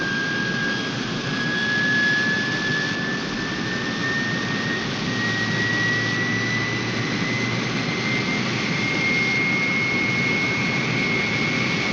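Jet engines roar steadily during an aircraft's takeoff roll in a 1960 film, a loud continuous rumbling whine with a slowly rising tone, close and unbroken with no voices.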